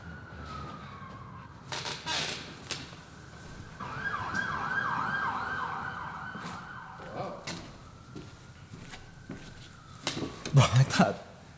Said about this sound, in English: I haven't heard that many sirens downtown in San Angelo in forever.